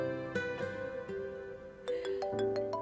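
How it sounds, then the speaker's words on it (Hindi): A phone ringtone for an incoming call plays loud and close as a repeating melodic tone, with a new phrase starting midway, sounding alone without talk in an indoor domestic scene from a Pakistani TV drama. "एक मिनट, फोन आ रहा है।"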